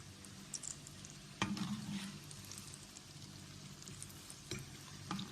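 Scotch eggs frying in hot oil, a faint, steady sizzle close by, with metallic clanks and scrapes as they are lifted out one at a time.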